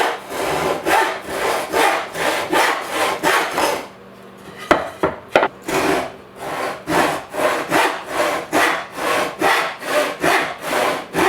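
A handsaw cuts a wood tenon left-handed in quick, even back-and-forth strokes, a loud, close rasp, with a short pause and a few knocks midway before the rhythmic sawing resumes.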